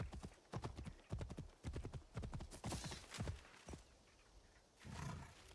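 Horse hooves clip-clop in a quick, close rhythm in Assassin's Creed Shadows, fading out midway, followed by a low rushing snort or breath near the end.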